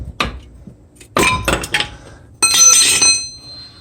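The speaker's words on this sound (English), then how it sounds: "I got the pry bar in there. Just pry it out, try not to ruin the rotor." A pry bar works a front brake pad loose on a Chevy Impala, giving a few short metallic scrapes and clinks in separate bursts, close and fairly loud, with no talking.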